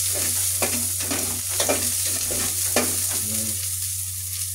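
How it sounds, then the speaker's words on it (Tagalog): Onions cook in a pan with a steady close sizzle, punctuated by rhythmic scraping strokes of a spatula stirring at a regular pace, over a low constant hum. "Maluto yung ating sibuyas."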